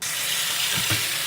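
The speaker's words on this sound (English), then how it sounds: "While I'm letting the watercress rinse," Tap water running steadily into a sink to rinse watercress, a constant close hissing splash with a faint thud of the greens shifting in the stream.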